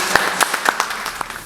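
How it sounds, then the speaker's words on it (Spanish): Brief applause from an audience welcoming a panel at a talk, a short scatter of a few claps rather than a full ovation, moderately loud in a hall. "con un fuerte aplauso damos la bienvenida"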